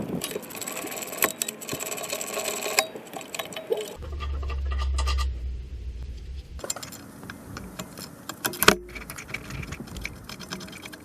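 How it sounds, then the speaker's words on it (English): Mechanic works with a 17 mm socket to remove the brake caliper mount on a Lexus RX 330, giving close metallic clicks and clanks, a steady whirring tool burst in the middle, and a few sharper knocks toward the end. "First thing I'm going to do is take out the brake caliper mount,"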